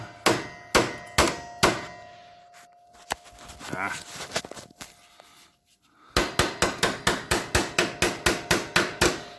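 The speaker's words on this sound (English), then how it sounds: "give it some good whacks where you're hitting it" A hammer strikes steel being bent on a Mercedes 500SEC, ringing metallic whacks in a steady run of evenly spaced blows, a pause with someone talking, then another fast series of loud clangs.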